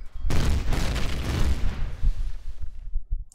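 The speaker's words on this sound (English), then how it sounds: "I love plasma cannons." Heavy plasma cannons firing in the sci-fi survival game Empyrion Galactic Survival, a loud booming blast that erupts suddenly and rumbles on with rolling low crackle before fading out over a few seconds.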